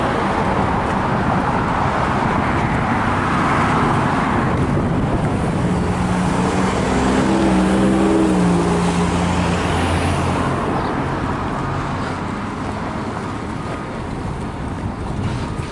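Many cars stream past on a busy street in Dearborn, making a loud, continuous roar of tires and engines. The rumble swells near the middle and then eases off slightly.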